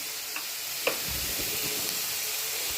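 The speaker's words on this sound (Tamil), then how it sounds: "இப்போ நம்ம வெங்காயம் தக்காளி நல்லா வதங்கிடும்." Onion and tomato sautéing in a pan for fish curry: a continuous close hiss and sizzle with a few faint spoon taps and stirring scrapes, no voices.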